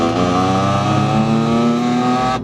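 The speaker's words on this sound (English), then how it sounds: "I got a really annoying buzz going on here from my drive shaft" Steady loud drone of a tuned BMW M3 F80 under way, with a droning buzz that the owner blames on the drive shaft riding over continuous engine and road noise, no one talking.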